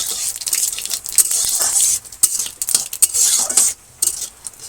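Pointed gourd fries in oil in a village kitchen on a rainy morning, a bright hissing sizzle mixed with frequent clattering stirs and scrapes of a utensil against the pan, close-up with brief pauses.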